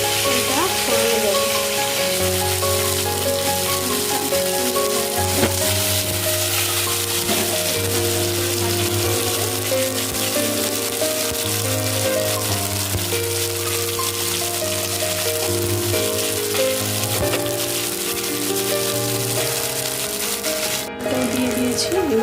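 Spice paste made with cashews, raisins, chilli and ginger fries in a pan, a busy crackling sizzle like rain on a surface, steady and close, with some background noise and tonal hum underneath.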